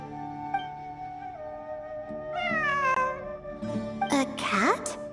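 A cat meows repeatedly in a ruin, with drawn-out rising and falling calls that grow louder and more insistent toward the end, some turning into a caterwaul.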